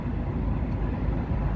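A truck cab heater blows air in a steady, close, loud broadband rush with a low rumble, unbroken for the short span.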